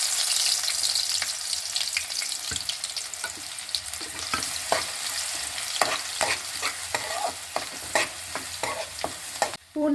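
Garlic sizzling in hot oil in a home kitchen pan for egg fried rice, a steady loud hiss broken by frequent sharp stirring clicks and scrapes of a spoon, close up with no voices.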